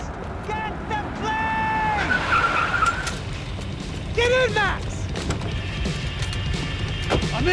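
In the video game Max Payne 3, a car skids with long tyre squeals amid engine noise and crunching impacts during a chase, while voices shout over the action.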